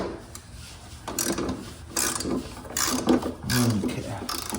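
Wrench cracking bolts loose on a Honda lawn mower during a service, a series of short ratcheting and grinding bursts about once a second, close and moderately loud over a steady background hum.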